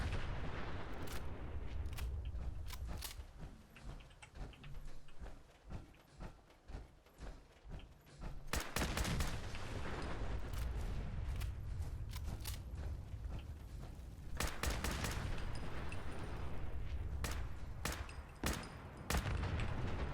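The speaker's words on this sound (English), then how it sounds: "You like explosions, you're in the right spot, everybody. I'm an explosions master over here." Dense, booming explosions and rapid bursts of gunfire from the Fallout 4 video game, played on PC in survival mode, with loud cracks and blasts repeating in clusters across the stretch.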